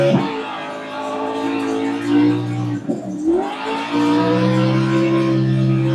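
Race car engine in a racing video game, a loud continuous high-pitched roar that drops briefly as if shifting or braking, then climbs back into a sustained rev.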